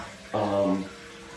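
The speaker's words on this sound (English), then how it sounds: "When this closes, when you're done, it automatically flushes as well." A HOROW T38 bidet combo toilet flushes automatically in a short, moderately loud rush of water lasting about half a second before fading out, close by and alone.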